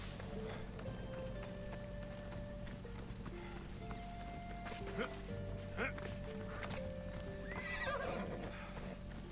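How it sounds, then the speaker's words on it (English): A horse in Assassin's Creed Odyssey gives a whinny and its hooves clip-clop on the ground, fairly quiet and steady against a low game ambience of droning tones. "There's my horse."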